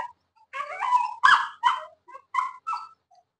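A dog whimpers and whines in a series of short, high, plaintive cries, close by, with brief pauses between them.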